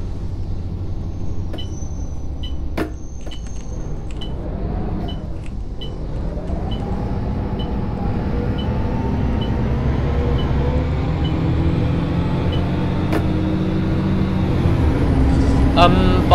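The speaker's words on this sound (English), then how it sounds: "This bus is really loud, but it's good." Loud, steady diesel drone of a city bus driving in the OMSI 2 bus simulator, engine tone rising and falling as it accelerates, continuous throughout with a voice talking over it.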